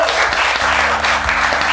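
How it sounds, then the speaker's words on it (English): A classroom of students applauds together in a steady burst of clapping that fills the room, with no talking over it. "Clap for yourself!"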